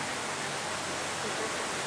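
Recirculated river water pours down a waterfall along the San Antonio Riverwalk, a loud, steady broadband rush filling the whole short stretch without pause.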